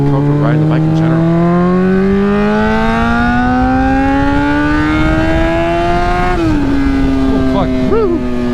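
Honda F4i sport motorcycle engine revving hard as it accelerates, a loud, steady rising whine climbing through the gears with one brief drop at a shift, close and dominant, with excited voices breaking in near the end.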